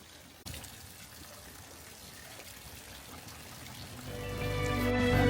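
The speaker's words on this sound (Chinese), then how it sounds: "先到守水社洗一下手" Water pours and trickles steadily into a stone purification basin at a hot-spring town shrine for hand washing, beginning with a sudden onset and swelling louder toward the end.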